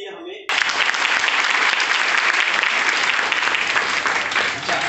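An audience at a wellness company's health awareness program bursts into loud, dense, sustained clapping that starts abruptly after a brief spoken moment and continues evenly to the end.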